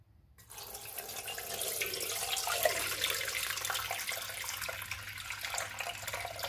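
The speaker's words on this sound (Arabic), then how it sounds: "نديرو يطروط الماء" Tap water pours steadily into a Thermomix mixing bowl, a continuous close splashing rush that starts abruptly and runs alone without talk.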